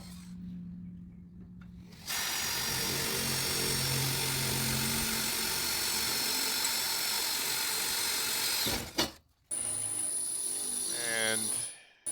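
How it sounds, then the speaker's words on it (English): A power drill drilling a pilot hole whirs steadily for several seconds, briefly stopping and restarting, with a rising whine near the end. "We'll do a little pilot hole just to get it started."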